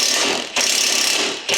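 A socket ratchet clicks steadily while tightening suspension arm bolts on a Range Rover, a dense close mechanical rattle with two brief bursts where the stroke changes, no voices.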